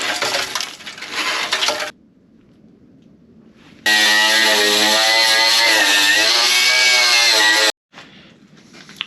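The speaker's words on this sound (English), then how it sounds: "I got pretty aggressive with the wire brush on the angle grinder" An angle grinder fitted with a wire brush scours rusty sheet metal on a 1967 Camaro, loud harsh whirring in two bursts split by quiet gaps, the second burst a steady high-pitched whine.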